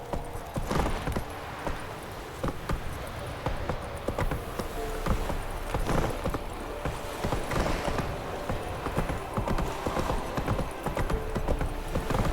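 Roach the horse galloping in The Witcher 3: Wild Hunt, a steady, loud clip-clop of hooves repeating in an even rhythm throughout, close by, with an occasional whinny-like edge and no talking.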